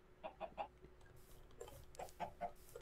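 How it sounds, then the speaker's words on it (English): Chickens cluck in Minecraft, two clusters of short, soft, rhythmic clucks separated by a brief pause, faint and alone with no talking. "Hey, chickens."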